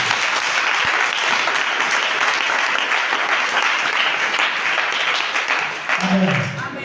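A church congregation applauding, dense sustained clapping from many hands filling the room, with a voice calling out near the end.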